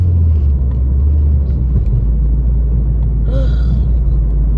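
Steady low rumble of cars in nearby road traffic, a continuous engine drone with a brief higher whine passing through partway.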